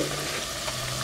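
Goat meat and thyme in a pot of warm water on a stovetop start to boil, giving a steady, close, hissing bubbling that fills the space without pause.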